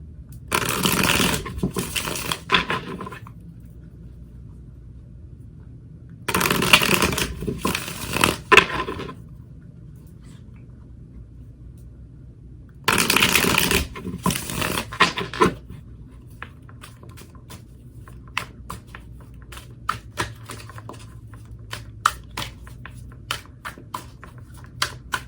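Tarot cards shuffled by hand in three quick riffling bursts, crisp and close, separated by quiet gaps, followed by a run of light taps and card handling with no talking.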